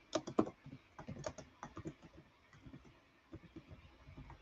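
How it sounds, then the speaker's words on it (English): Typing on a computer keyboard, close and fairly quiet, with an irregular burst of keystrokes at first and then lighter, scattered taps. "let me type my email"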